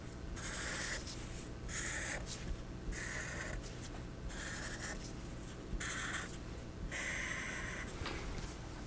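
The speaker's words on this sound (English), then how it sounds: "Let me draw on some lines that will maybe make it a little clearer." A pen drawing the straight lines of a cube on paper, a series of distinct scratchy strokes of about a second each with short pauses between them, close and fairly quiet.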